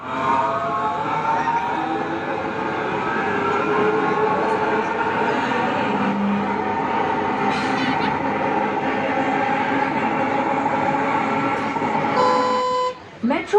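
A Mumbai metro train runs with a steady rumble and whining hum while a station announcement speaks over it, and the noise cuts briefly near the end.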